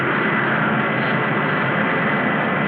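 A spaceship's rocket engine boosting in a 1956 space-adventure film, heard as a loud, steady, unbroken roaring hiss with no voices over it.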